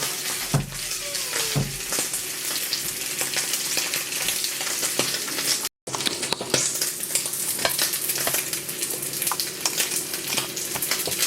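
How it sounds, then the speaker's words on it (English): Pork belly searing in a hot pan of oil gives a steady close sizzle and crackle with scraping and stirring noises, briefly cut off partway through. "I'm now going to seal that off in a hot pan to get some colour onto it"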